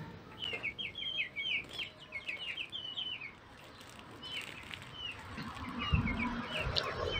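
Young farm chickens, kept thirsty and hungry before a coccidiosis dose, cluck and chirp in quick, high repeated calls, moderately faint against low background rumble, with no talking.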